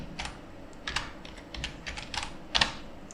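Someone types on a computer keyboard while entering a command in a Linux terminal, producing a quick, uneven burst of close, crisp key clicks with short pauses between groups.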